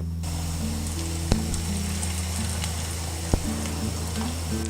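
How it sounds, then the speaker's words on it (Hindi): Potato pakoras frying in hot oil on low heat give a steady, close sizzle throughout, with two brief sharp clicks partway through. "तो चलें आए अब पकोड़े को फ्राई करते हैं"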